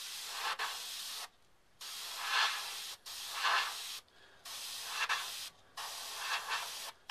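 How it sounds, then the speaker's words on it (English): Airbrush spraying sand-coloured enamel paint along model half-timber building timbers: four steady hissing bursts of about a second each, separated by short pauses, close and fairly loud with no talk. "take the airbrush and just basically go along all of the timbers"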